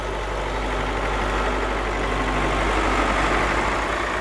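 A farm tractor engine runs steadily, a continuous low rumbling drone, fairly loud and unbroken, with no voices over it.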